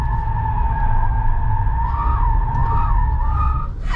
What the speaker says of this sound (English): Bolt loves to squeal its tires